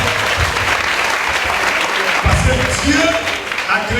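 Church congregation applauding steadily throughout, a dense, loud wash of clapping with a few swelling bursts.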